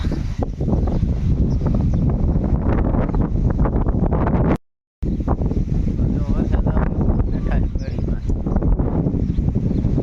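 Steady wind roars against the microphone in a village cotton field, broadband and continuous, with a brief silent gap midway.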